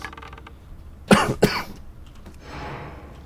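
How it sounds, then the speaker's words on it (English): Two sharp coughs in quick succession, close and fairly loud, followed by a short exhale against quiet background hiss. "pardon the cough"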